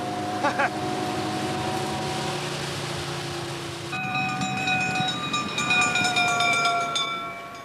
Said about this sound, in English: These were the first automatic fire engines that Surrey Fire Brigade had anyway.